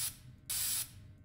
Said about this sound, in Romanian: am dat cu spray costumul și acum lucește puțin, parcă?